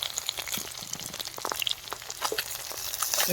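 Fish frying in a pan at an outdoor pondside picnic, a steady close crackling sizzle with scattered sharp pops of spitting oil, continuous throughout with no talking.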